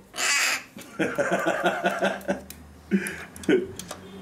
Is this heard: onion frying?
no